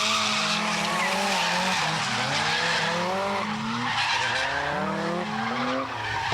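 A drift car slides through a tight, winding mountain pass road, its tires skidding and squealing loudly and continuously while the engine note rises and falls in repeated revving sweeps.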